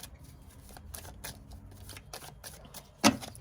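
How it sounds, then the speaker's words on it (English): Tarot cards riffled and shuffled by hand in a run of quick, close papery flicks, ending in a sharper snap of cards near the end; no talking. "I don't know why I'm shuffling this right away"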